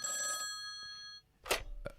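A studio landline telephone rings in a podcast room: a loud, clear electronic trill followed by a pause, then handling knocks and clatter nearby.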